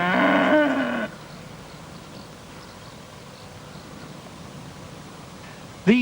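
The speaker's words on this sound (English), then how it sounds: "The cows are Dexters and Highland cattle, the nearest in bone structure to the extinct Celtic shorthorn of Iron Age times" Dexter and Highland cattle give a single loud, drawn-out moo near the start, then only faint outdoor ambience, with a brief sound returning at the very end.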